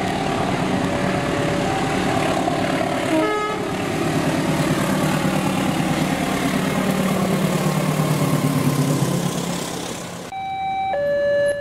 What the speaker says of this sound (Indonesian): lokomotif kereta api Cikuray memakai lokomotif uji coba B40 yang liverinya masih terpasang